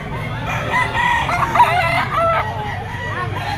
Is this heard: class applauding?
no